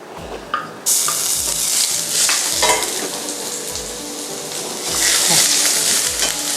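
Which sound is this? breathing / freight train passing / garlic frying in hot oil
garlic frying in hot oil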